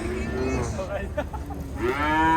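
Cattle moo loudly and close by at the Karakol livestock bazaar, one long drawn-out call opening and another rising at the end, over steady crowd and market background noise.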